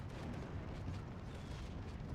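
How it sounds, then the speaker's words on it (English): Artillery shells landing in the World War II strategy game Steel Division, a dense, continuous low rumble of explosions with no distinct gaps, heavy and steady throughout with no talk. "Artillery landing all over the place from both sides"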